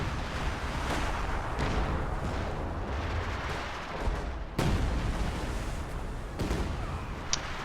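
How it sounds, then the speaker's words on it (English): Continuous battle din from a multiplayer strategy game match, with rolling artillery-like booms and gunfire throughout, several sharp louder blasts standing out near the middle and end, including grenade explosions. "Funnel grenade's pretty off target right there."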